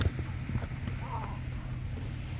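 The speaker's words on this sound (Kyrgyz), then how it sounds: "Жеңилдигини мына кой бергенде кетип атканын көрүңүздөр аттын." A horse's hooves beat in a quick, steady clip-clop, close by, over a continuous low rumble.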